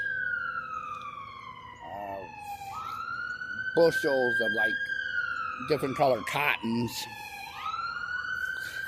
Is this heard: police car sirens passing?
yes